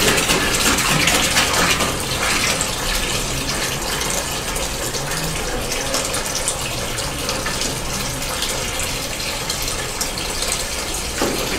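Liquid draining steadily from a tilted volumetric measuring vessel during a calibration check, a continuous splashing, gushing pour with faint metallic ticks, close and even in level with no talking.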